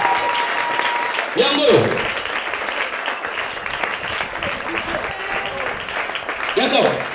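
Church congregation applauding after a consecration blessing, the clapping running steadily throughout under a voice speaking over it, with a slight swell in the crowd noise partway through.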